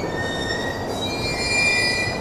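An E233 series electric train runs on a rapid service between Musashi-sakai and Nakano, its wheels squealing steadily on the rails with a high metallic whine over a low rolling rumble, close and sustained.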